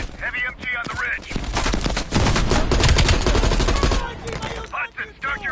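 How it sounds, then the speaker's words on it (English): A heavy machine gun fires in the Call of Duty Cold War campaign: dense, rapid bursts of loud automatic fire in the middle, with voices briefly heard before and after. "Heavy MG on the ridge."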